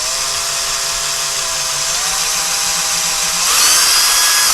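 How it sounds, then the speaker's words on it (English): A power drill whirs steadily at close range, drilling slowly into a small pilot hole for a blind-mounting screw, its motor pitch shifting slightly and rising louder near the end as it bites into material. "So we're going to drill a small hole"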